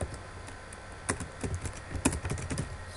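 Code being typed on a computer keyboard, a quiet run of irregular key clicks with a few sharper taps, close and alone with no talk.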